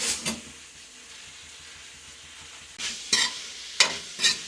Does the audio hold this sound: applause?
no